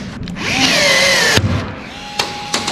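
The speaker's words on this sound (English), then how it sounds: "I'm also applying a fair bit of downward pressure on the rivet gun when I'm setting these" A power rivet tool sets 1/4 inch ProTech blind rivets through a camper roof, giving a loud close whirring pull of about a second, ending in a sharp snap, followed by lighter clicks.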